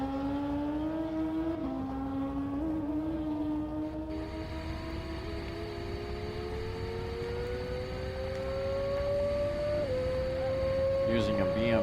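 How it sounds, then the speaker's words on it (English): 1000cc modified, partially streamlined fuel-burning motorcycle with a 2017 BMW engine racing across El Mirage dry lake; a distant engine whine rises in pitch through the gears, steady and fairly faint over wind. "bike number 415, 1000cc modified, partially streamlined motorcycle on fuel with Leslie Hoogerhide behind the controls."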